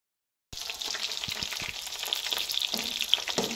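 Fish frying in a pan in a village kitchen, a dense crackling sizzle that starts abruptly after a brief silence and carries on steadily with small pops and scrapes, close and fairly loud.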